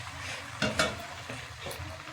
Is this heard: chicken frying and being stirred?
yes